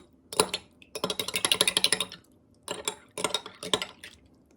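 Dishes and cutlery being rinsed during a dish detergent residue demonstration, with clattering bursts of tableware and water in several close clusters separated by short pauses.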